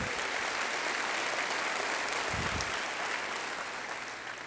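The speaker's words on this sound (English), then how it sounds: "Let's give a big round of applause for Measure A." A large audience claps steadily in a big hall at a 2019 State of the City address, a thick continuous wash of applause for Measure A that holds evenly throughout.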